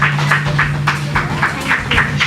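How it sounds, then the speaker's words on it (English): Audience applause at a school award ceremony in Mumbai, with steady rhythmic clapping from a crowd in a hall, moderately loud and continuous for a couple of seconds. "So everybody will please join me in congratulating them and clapping"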